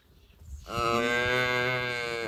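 Cattle at the calf pens of a farm let out a single long, loud, sustained moo close by, following a brief stretch of low farmyard background noise.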